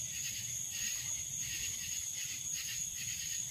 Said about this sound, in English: Nice for the cricket, that was really loud.